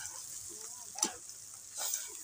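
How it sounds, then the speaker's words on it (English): Sautéed potatoes with onion being stirred in a pan, a faint sizzle with two brief scraping stirs of a utensil. "Now we are mixing it"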